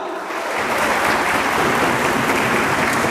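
A church congregation bursts into sustained applause, a dense, loud wash of many hands clapping that swells quickly and holds steady to the end.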